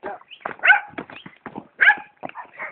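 A dog on a mountain trip barks in a quick run of short, sharp yips and woofs, close and loud with brief gaps between them.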